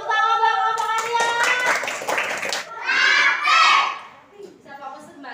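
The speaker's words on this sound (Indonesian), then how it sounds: "Tepuk tangan buat kelompok Adrian." Group of children clapping together in a classroom for a classmate's team, a dense burst of hand claps mixed with excited young voices and chatter.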